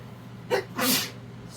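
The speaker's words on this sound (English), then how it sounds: "And then I'm going to sneeze." A single person's sneeze, close and loud, with a short intake followed by a sharp burst, alone against a quiet room.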